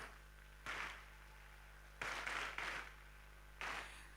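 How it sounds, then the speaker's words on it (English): Scattered bursts of audience applause for young hackathon competitors, coming in short separate waves over a low steady hum, faint and at some distance. "So let's give a round of applause for amazing young hackers."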